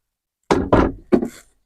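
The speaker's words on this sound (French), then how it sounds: "un tiroir pour les casseroles, hop là" A pan drawer in a Pilote P720 camper van's kitchen is slid and shut, giving three close, solid knocks and thunks in quick succession followed by silence.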